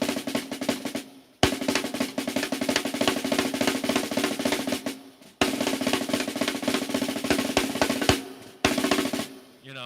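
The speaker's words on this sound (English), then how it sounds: "I do inverted paradiddles" Inverted paradiddles on a drum kit: a dense, steady run of close, loud strokes that continues in long phrases, broken by short pauses, with no voices.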